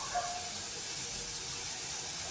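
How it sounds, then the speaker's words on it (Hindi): Masala spices roasting with tomato in a pan for an egg recipe give a steady, soft hiss of sizzling that runs unbroken throughout with no talking. "अब हम ना मसाले को भूनते जा रहे हैं।"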